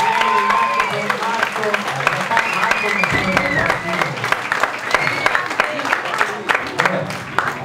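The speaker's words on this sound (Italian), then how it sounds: "chiedo un applauso ai ragazzi della regia qui dietro" Theatre audience at an oratory festival show in San Vittore applauds the stage crew behind the scenes, a dense spell of clapping lasting throughout, with voices and talk mixed in over it.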